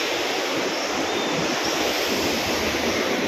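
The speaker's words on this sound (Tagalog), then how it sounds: "Lakas ang alon." Strong surf pounding a red-flag beach near the mouth of the Tabang River, a loud continuous broadband roar of breaking waves with no pauses and no voices.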